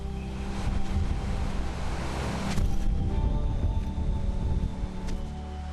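Sea waves lap and wash steadily against a basalt sea cave and arch on the Penghu coast, a close, continuous surge of water with wind noise over the microphone.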